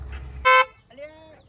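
One short, loud horn toot from an auto rickshaw, close by, sounding for about a fifth of a second, with low rumble before it and a voice speaking afterward.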